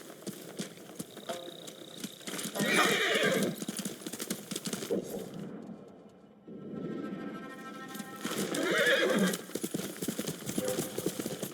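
In the video game Ghost of Tsushima, hooves clip-clop in a steady gallop while a horse whinnies, the rhythm fading briefly mid-way before the hoofbeats return loud and close.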